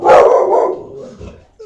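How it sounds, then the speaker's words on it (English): A dog gives a single loud, close bark that fades into a short trailing whine. "I get an amen from my dog."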